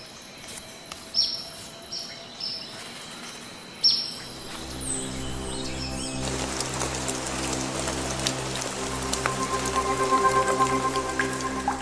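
Rain shower falling in a hummingbird habitat, starting with scattered drops and bird chirps, then swelling into a dense, steady patter of rain that grows louder toward the end.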